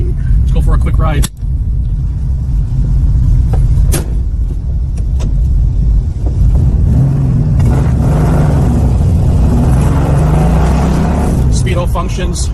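A muscle car drives off and accelerates, its engine rumbling loudly and steadily from inside the cabin as someone speaks at intervals.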